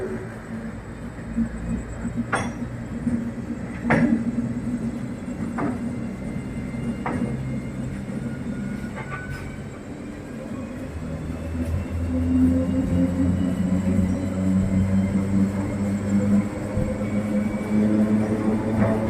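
A MEMU train pulls out of Platform 4 at Palakkad Junction, its steady rumble and rolling wheels growing heavier as it gathers speed, with sharp clanks and squeals over the motor drone.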